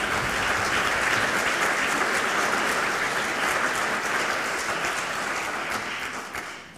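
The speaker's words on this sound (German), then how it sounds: "Vielleicht einen kleinen Applaus" An audience at a university's academic ceremony applauds, many hands clapping in a steady, full roar that holds level and then slowly tapers toward the end.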